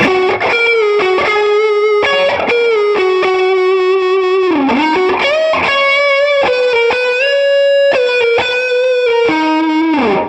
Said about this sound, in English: let's dial in that neck pickup tone and see how much tone we need to roll off